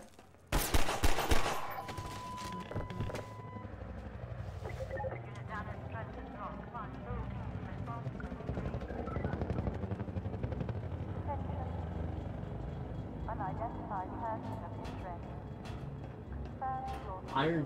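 Half-Life 2 VR weapon fire, a loud burst of rapid shots at the start, then scattered shots and clanks over low mechanical rumble, with someone talking over much of it.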